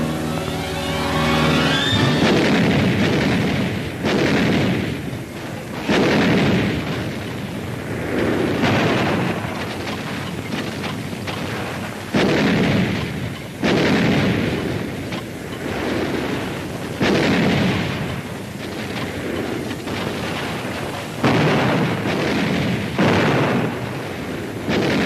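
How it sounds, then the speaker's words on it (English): Artillery fire at Iwo Jima in a wartime newsreel: repeated heavy booms and rumbling blasts recurring every couple of seconds, loud and sustained, with no voices. "We call for artillery."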